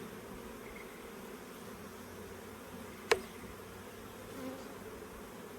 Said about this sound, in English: It's full of bees.